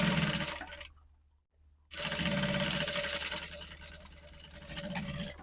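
A sewing machine stitches a folded elastic waistband band for palazzo pants, running in a steady loud whir, pausing briefly near the start, then resuming and continuing to the end with no talking.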